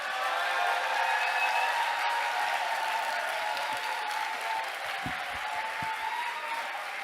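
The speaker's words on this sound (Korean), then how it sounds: "우리 목사님 나오실 때 큰 박수로 우리 환영하겠습니다" Sustained applause from a church congregation at a lay spiritual retreat welcoming the pastor to the stage, a dense, steady roar of clapping that holds for about seven seconds with no voices on top.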